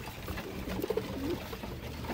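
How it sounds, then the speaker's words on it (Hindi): Several paint-marked pigeons, including Kamangar birds, give a short burst of soft throaty cooing midway through, heard faintly over a dense background hum with no speech. "ये सब के सब कबूतर आपके हैं"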